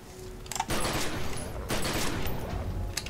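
Rapid bursts of gunfire from The Secret World video game, a dense fusillade of overlapping shots filling most of the stretch, loud and close, with a voice faintly mixed in.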